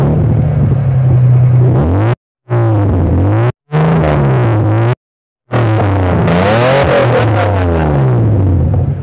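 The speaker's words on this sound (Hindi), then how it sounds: "अच्छा, ये गाड़ी मुझे स्टार्ट करके दिखा सकते हैं?" A Toyota Land Cruiser FJ40 at a used-car bazaar in Karachi runs with a loud, close, steady engine drone that rises and falls as it is revved, broken by a few short dropouts.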